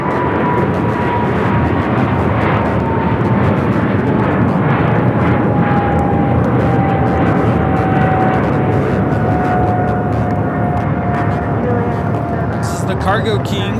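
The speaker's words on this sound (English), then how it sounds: "Cargo King, Flight 222, taking off to Shanghai, 777 freighter" A Boeing 777 freighter jet takes off from Los Angeles airport, its engines producing a loud steady roar with a faint whining tone sliding slowly downward, while voices talk underneath.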